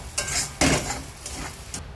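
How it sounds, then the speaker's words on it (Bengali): Three salted eggs fry in a pan, giving a soft sizzle broken by a few sharp scraping stirs of a utensil against the pan. "এবার এই ডিম 3টে ভেজে নেব সুন্দর করে"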